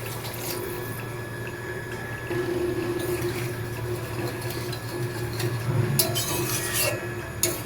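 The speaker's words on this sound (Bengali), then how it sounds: "এবার পরিমাণ মতন জল দিয়ে দিচ্ছি" Water poured into a pan of raw chickpea ghugni curry with potato, a steady close pouring and splashing wash that continues throughout, growing slightly fuller partway, with a few soft scrapes near the end.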